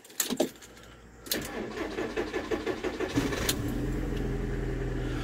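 A 1998 VW Beetle converted to a pickup cranks briefly, catches on a second try and settles into a steady close-up idle.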